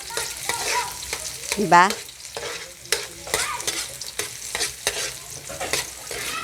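Onions sizzle in a pan for chicken curry, with close spatula scrapes and stirring knocks under a steady frying hiss, a brief spoken word near the start.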